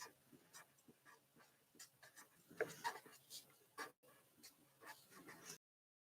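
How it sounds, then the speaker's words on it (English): Handwriting during a geometry lesson on surface area, with scratchy pen strokes in short bursts and pauses, fairly quiet and close, no talking. "let me write surface area over here"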